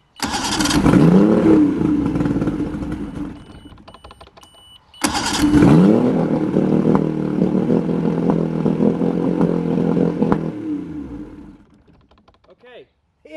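A 1970 Mercury outboard motor on a Skeeter boat under restoration starts up twice and races at a high idle, its pitch rising and falling as if revving itself. The engine is loud and close each time before it cuts out, and people talk beneath it.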